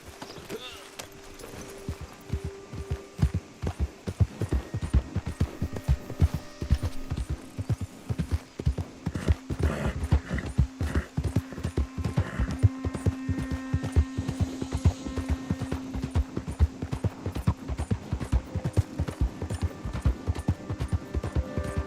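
Steady rhythmic clip-clop of horse hooves in a video game going on throughout at a brisk pace, with a low background drone and a voice speaking at times.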